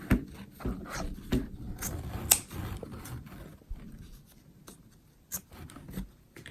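Scissors trim fabric around a herringbone zipper bag in a series of soft, close snips and rustles scattered over several seconds, with no speech.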